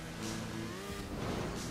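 A motorbike engine in a GTA 5 race whines steadily at high revs, its pitch slowly climbing, with a second similar bike droning alongside.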